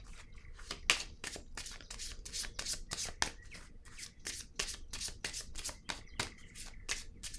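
Tarot cards being shuffled by hand, a close, crisp run of rapid riffling flutters and soft slaps repeating steadily with no voices.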